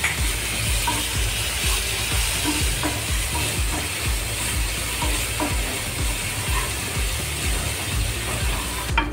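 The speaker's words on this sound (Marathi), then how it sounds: "आलं लसूण मिरची पेस्ट चांगलं परतून घेणार आहोत" A ginger, garlic and chilli paste with cumin and asafoetida sautéing in a pan, giving a steady, continuous sizzle and fry with repeated scraping stirs of a spoon, close and fairly loud, and no talk.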